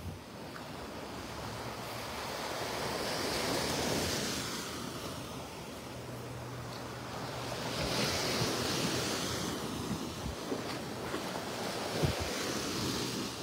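Waves wash onto a beach in North Naples, Florida, in a continuous surf hiss that swells and eases in slow surges, with wind buffeting the microphone and no voices.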